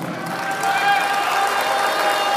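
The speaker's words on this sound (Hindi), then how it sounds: "ज़ोरदार तालियों से इस्तकबाल कीजिए अंकिता सिंह का।" An audience at the ISC Urdu Wing International Mushaira 2022 in Muscat, Oman applauds to welcome poet Ankita Singh, with dense continuous clapping and some cheering, steady and fairly loud under a faint tonal background.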